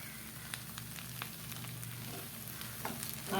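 Potato masala with turmeric and salt sizzles steadily in a pan while a spoon stirs it, soft scraping strokes repeating over the continuous frying hiss, close and moderate in level with no talk.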